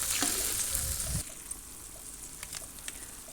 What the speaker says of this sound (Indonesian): Tambahkan sedikit air, lalu aduk-aduk.